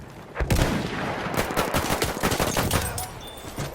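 Rapid bursts of Gewehr rifle fire in Battlefield 1, sharp close shots cracking in a quick irregular rhythm over distant battlefield gunfire.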